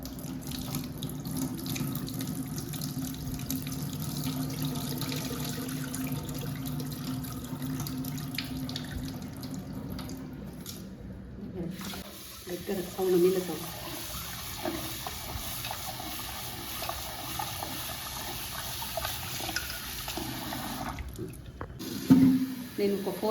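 Foxtail millet washed in a sink under running tap water, then the water carefully poured off by hand; a steady close rush of flowing water with splashes and drips, briefly interrupted.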